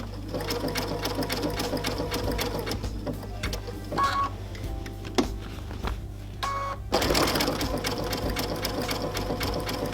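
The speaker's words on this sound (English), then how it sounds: "and then I'll just continue sewing around the edge" A sewing machine runs a satin stitch along a raw-edge applique, humming and rattling steadily nearby, pausing briefly midway before resuming at full pace.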